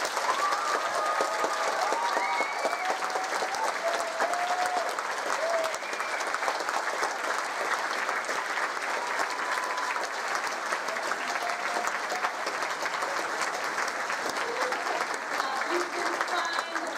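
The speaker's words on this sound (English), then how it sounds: "I would like to finish by asking you to give a huge round of applause for everyone." A room full of listeners at a book and reading event claps steadily and warmly, dense even applause held at one level throughout with faint voices mixed in.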